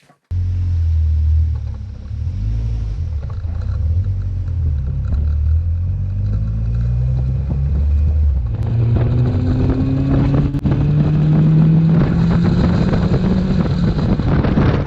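A Caterham 420R sports car laps a race track on a novices trackday, its engine droning loudly and close with rising and falling revs through gear changes, with wind buffeting under the engine note.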